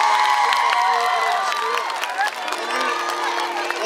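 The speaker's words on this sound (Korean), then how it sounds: "다시 한번 큰 박수" An audience claps and cheers at an outdoor concert at Bonghwangdae Music Square. Dense, steady applause with scattered whoops fills the whole stretch and fades slightly toward the end.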